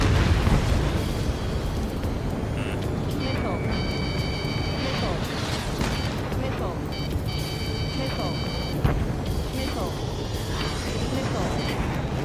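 Missile fire and explosion in the Ace Combat 7 video game, heard as a continuous loud roar of jet engine noise with bursts and booms, while electronic lock-on tones beep repeatedly and radio voices talk over it.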